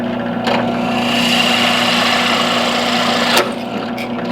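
A small drill whines steadily at close range for a few seconds while drilling through knife handle material, then slows and winds down with a brief clunk.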